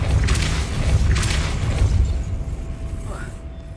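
Depulso force spell cast in the video game Hogwarts Legacy, a booming burst with a rushing low rumble that fades over a few seconds, with a faint whoosh near the end.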